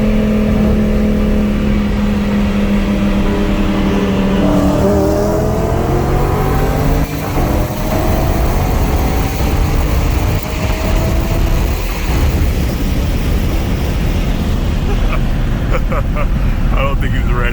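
A Dodge Hellcat Redeye and a Lamborghini Huracan race on the road, their engines roaring loud and continuous with rising revs, heard from inside a moving car under steady wind and road noise.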